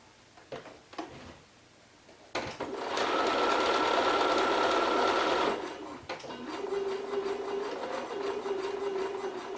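A sewing machine stitches fabric in a steady whirring run of about three seconds, then a second, slightly softer and lower-pitched run follows after a short pause, with a few light clicks before.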